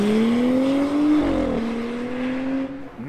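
Turbocharged Audi SQ5 SUV accelerating hard under full throttle, engine note rising steadily, dipping briefly at a gear change, then climbing again, loud and close with no talk.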